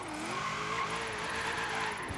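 A Land Rover Series III drifts in the Forza Horizon 3 racing game, its engine droning steadily under a continuous, loud tire squeal.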